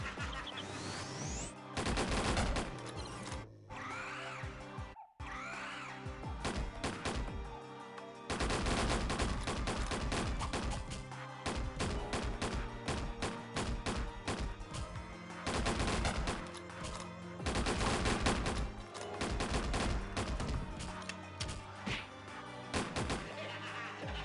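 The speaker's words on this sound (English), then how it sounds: "Boom, shotgun." Shotgun fire from a gunslinger in the online game Ragnarok Online crackles in dense repeated volleys, loud and continuous for most of the stretch with a few short breaks, over a steady game soundtrack.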